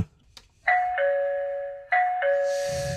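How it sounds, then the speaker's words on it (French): A smart video doorbell, an EZVIZ HP5, rings a bright electronic two-tone ding-dong chime clearly, repeating twice in a row, then a soft rustle follows as it fades. "Si je sonne ici sur la sonnette"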